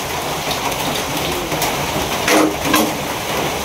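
Steady rain pours down outdoors during a rain and thunder spell while khichuri is cooked, a dense, even hiss of drops on surfaces with a couple of slightly louder splashy bursts near the end.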